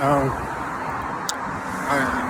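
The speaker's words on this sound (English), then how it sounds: "It's a lot of traffic out here." Road traffic rumbles continuously nearby, with cars passing and engine noise swelling at the start and end while a voice talks over it.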